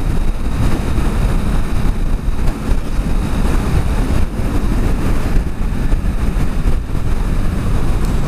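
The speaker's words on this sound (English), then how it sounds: "Damn, it's windy." Strong wind roaring over the microphone while riding a Kawasaki Vulcan S motorcycle, a loud, continuous buffeting rush that drowns out most other sound, with no talking.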